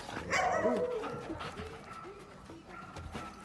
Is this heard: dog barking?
yes